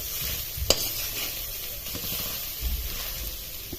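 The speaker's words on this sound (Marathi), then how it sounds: "तूप तळलं का लगेच हा पीस टाकून द्यायचा खोबऱ्याचा आणि हा पूर्ण ड्राय करून घ्यायचा" Grated coconut frying in ghee in a pan, stirred continuously, gives a steady close hiss and sizzle with a sharp scrape of the spoon near the start and soft stirring scrapes later, with no talking.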